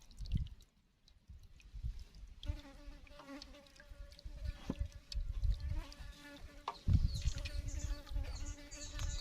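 Flies buzz around rotting tilapia outdoors in rural Isan, a persistent close whine rising and fading as they circle, with soft drips and squishy handling noises beneath.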